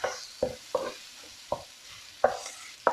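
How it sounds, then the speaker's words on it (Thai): Shrimp fry in a pan for shrimp-fat fried rice, a soft sizzle beneath a series of sharp, irregular scraping knocks from a utensil stirring the pan, heard up close. "นี่นะคะกุ้งของเราก็เริ่มสุกละ"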